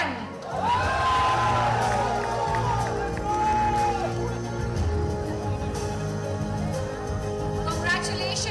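A crowd at a cycling race awards ceremony in Chennai cheers and shouts loudly and continuously, with whoops and high voices rising over the din, alongside talking over a loudspeaker.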